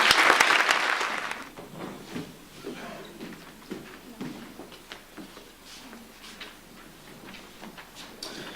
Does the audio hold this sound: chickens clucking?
no